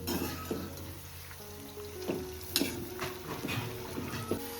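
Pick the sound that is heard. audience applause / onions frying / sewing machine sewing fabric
onions frying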